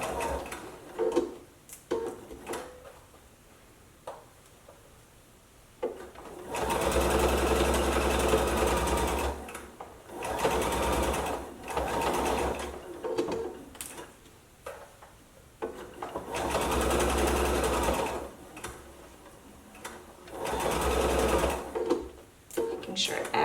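A sewing machine stitches a seam around the top of a Christmas stocking in several loud, steady whirring bursts separated by pauses, while a person talks between and over the runs.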